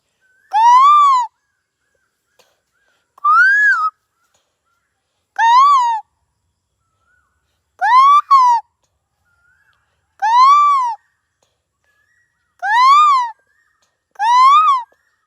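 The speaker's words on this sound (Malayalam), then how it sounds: "എൻ്റെ അവിടെ കുയിലാണ് ഗൈസ് കൂവിയത്" An Asian koel calls seven times, loud, clear rising whistles spaced evenly about two seconds apart, with silence between each call.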